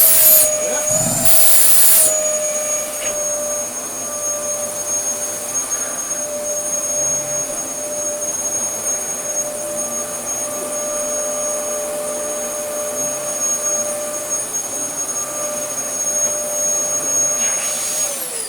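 A Dyson DC14 upright vacuum cleaner, a free one salvaged from a building site, runs on deep carpet with a steady, loud whine and airflow roar that holds throughout, with a brief louder burst near the start.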